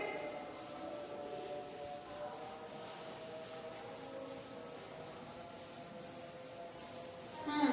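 A duster or cloth rubs writing off a classroom board in steady, continuous scrubbing strokes, close and moderately loud, with no talk over it.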